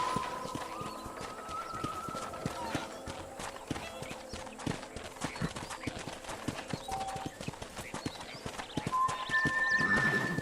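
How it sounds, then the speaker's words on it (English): Horse hooves clip-clop at a steady riding gait in the Western video game Red Dead Redemption, loud and near throughout, with an occasional whinny and light game ambience around the rhythmic hoofbeats. "let's see if you can still ride a horse"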